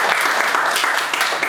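Audience at an Indonesian record-setting talk show event breaking into loud, dense applause, continuous clapping filling the whole moment with no pause.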